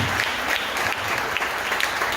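A congregation at a Hindi-language church service applauds first-time visitors with a fairly quiet, even patter of many hands clapping, steady and without pauses.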